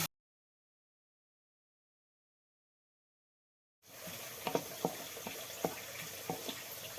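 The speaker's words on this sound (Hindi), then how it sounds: "गंड तो यह कर बह फ्राई" Onions fry in hot oil in a kadai on a gas stove: after several seconds of silence, a steady close sizzle begins, broken by scattered sharp crackles and pops.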